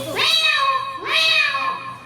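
A human voice does two drawn-out, rising-then-falling meows in a row, loud and close, convincingly imitating a cat.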